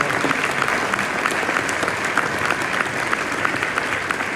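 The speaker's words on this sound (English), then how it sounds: "We give a warm applause for all" Warm audience applause at the NAMM 2026 trade show, a dense, steady wash of many hands clapping at close range that holds evenly throughout.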